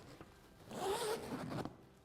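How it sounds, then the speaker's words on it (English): A zipper on a pony hair leather bag is pulled in one smooth, close, fairly quiet zip lasting about a second, with no talking. "There we go, another good zipper"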